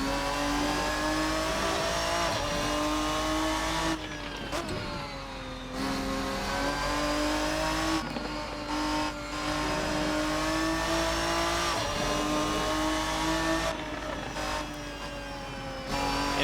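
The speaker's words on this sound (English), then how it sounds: "That is unmistakably a V12. Sounds absolutely glorious." Ferruccio 57 V12 engine revving hard in a racing video game, loud sustained high-pitched engine tone rising through the revs, with brief dips between gear changes and gearbox whine, no talking.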